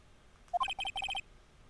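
A phone rings in the Ace Attorney video game with a short electronic ringtone: a rapid burst of bright, evenly spaced beeps in quick groups, clear and alone, then silence.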